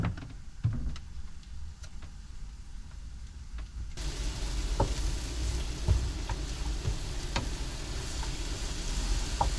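Onions caramelizing in butter with garlic, salt and pepper in an uncovered pan give a steady, moderate sizzle, quieter at first and fuller after a few seconds, with occasional small ticks and pops.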